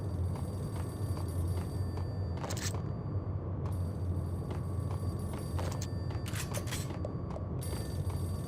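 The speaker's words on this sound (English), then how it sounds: "A payphone started to ring." Payphone in the video game Max Payne, ringing in several short bright bursts spaced irregularly over a steady low background hum.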